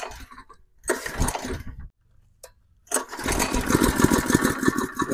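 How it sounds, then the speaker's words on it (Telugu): A power weeder's small petrol engine is pulled to start in a tomato field, giving short rough bursts of sputtering with gaps between tries before it catches and runs in a loud, steady, chugging drone. "ఇప్పుడు మనం అయితే ఇంజన్ స్టార్ట్ చేస్తున్నాము"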